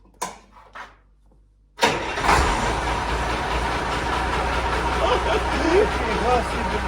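A ZIL-131 truck fitted with a Mercedes OM 366A diesel engine starts for the first time: brief cranking, then the engine catches and runs steadily, loud and close, with people talking nearby.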